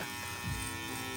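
Electric hair clippers buzz steadily and close up while shaving hair off at the sideburns during a haircut, a brief continuous hum with no talk.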